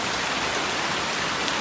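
Steady rain falling outdoors, an even, dense patter and hiss that stays constant for the whole short stretch, with no voices.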